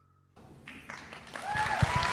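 A political event audience breaking into applause, starting quietly after a brief silence and swelling into dense clapping with a few louder cheers and whoops toward the end.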